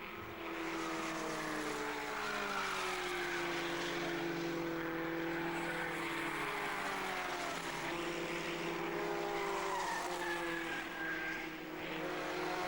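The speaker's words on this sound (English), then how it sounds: "The car is a Reynard FF90 and the engine is tuned by GT Services." A Reynard FF90 race car with a GT Services-tuned engine passes on track, its high-revving drone rising and shifting in pitch as it goes by at moderate distance, steady and unbroken with no voices.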